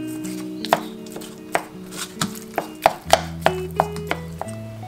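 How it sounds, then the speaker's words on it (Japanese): A knife cuts a peeled, garden-grown persimmon into small thin slices on a board, giving a brisk series of crisp taps in an even rhythm, close and clear. "柿は皮を剥いて小さく薄切り。"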